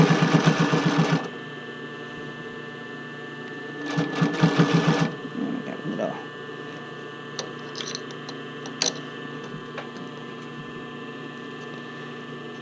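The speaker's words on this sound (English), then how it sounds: "we're going to sew on both sides of the casing" A sewing machine stitches a bra casing in quick bursts of rapid mechanical ticking, one short run and then a second, with quieter handling clicks in between.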